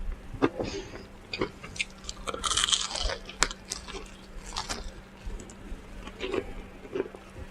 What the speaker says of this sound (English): I hope you guys can hear that crunching.